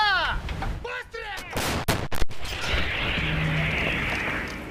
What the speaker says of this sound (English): They are firing 152mm howitzers